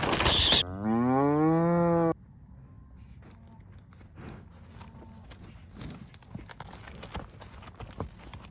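A cow being loaded into a livestock trailer lets out one long, loud moo, followed by hooves thudding and clattering unevenly across the trailer floor.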